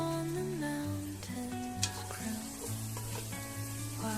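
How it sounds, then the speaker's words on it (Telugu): Spoonful of chicken masala stirred into a sizzling masala base in a pan for veg biryani, a steady frying hiss with tonal music playing over it throughout. "కొంచెం అంతా ఒక చెంచా వేసుకుని ఒకసారి కలుపుకుందాం"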